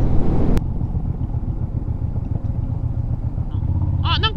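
A motorcycle engine rumbles steadily and close by at a riding-skills event held at a driving school, with a brief higher chirping sound near the end.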